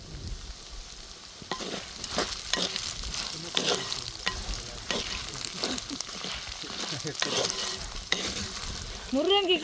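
Grated coconut, dried red chillies and a small piece of tamarind sauté in a pan for drumstick leaf chutney, with a continuous soft sizzle broken by repeated scraping stirs of a spoon against the pan.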